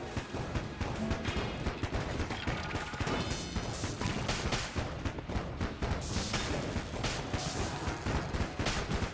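Continuous gunfire in Enter the Gungeon, a dense, steady barrage of rapid shots and crashing impacts lasting the whole stretch, busy and loud with no pauses.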